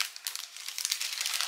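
Plastic packaging crinkles as a pack of baby cutlery with wooden handles is torn open. The crackling is close, quick and irregular, with no talking over it.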